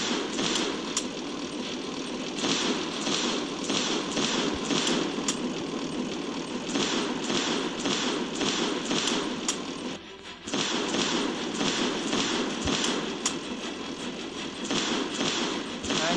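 Rapid, dense bursts of cannon fire crackle continuously from the Tank io video game, a steady barrage of popping shots over a constant engine-like rumble, loud and unbroken apart from one brief dip midway.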